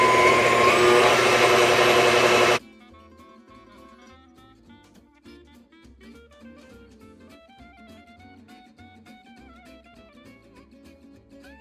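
An electric mixer beats strawberry shortcake ingredients with granulated sugar, a loud, steady whir for about two and a half seconds that cuts off abruptly, leaving quieter tonal background sounds.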